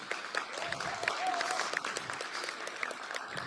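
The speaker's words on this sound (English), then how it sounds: "Please give her a round of applause." Audience at a presentation applauds an article contributor, with a moderate crowd clapping in distinct, fairly close claps and a brief whistle-like tone passing through the middle.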